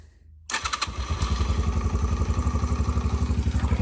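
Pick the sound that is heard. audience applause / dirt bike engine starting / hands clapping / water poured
dirt bike engine starting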